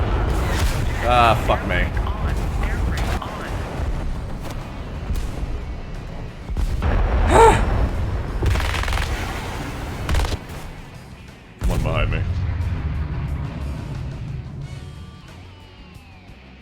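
Player's vehicle exploding in War Thunder, heard as heavy booms and crashing bursts among dense combat noise, with a sharp blast midway and a sudden loud thud later, while someone talks and reacts over it.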